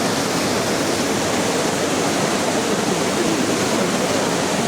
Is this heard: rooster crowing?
no